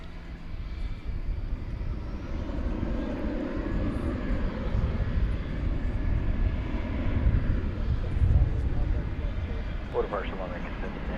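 A plane powers up for takeoff from runway 18 Left at DFW Airport at night, a broad, steady jet roar that swells slightly toward the end, with faint voice chatter present.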